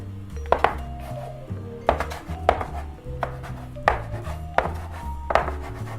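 A knife chops scallion flatbread dough rope into pieces on a board, giving about six sharp, evenly spaced knocks that ring close and clear with no talking.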